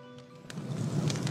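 Rain falls in a Minecraft world, a soft broadband hiss that starts faint and swells steadily louder, with no voices over it.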